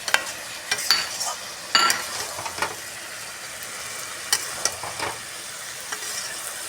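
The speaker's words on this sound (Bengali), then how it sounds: "নাড়াচাড়া করে ভালো করে কষাবো।" Hilsa fish heads stirred and fried in a pan with green chilli paste for a Malabar spinach dish, a steady crackling sizzle with intermittent sharp scraping strokes close by.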